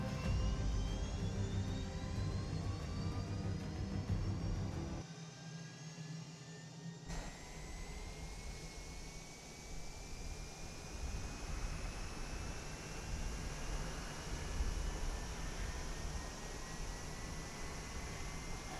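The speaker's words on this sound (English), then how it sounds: "Now this plane has a great startup sound." A jet aircraft engine starts up in the DCS flight simulator game, a continuous spooling whine that rises steadily in pitch over a deep rumble, with a short dip in the low rumble partway through and no talking.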